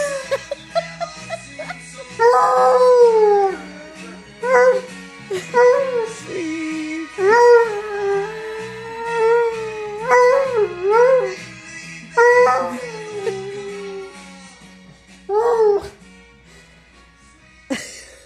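A hound dog howling along to music, long wavering howls and yips that rise and fall in phrases across the song, loud and close, with a person's voice briefly heard.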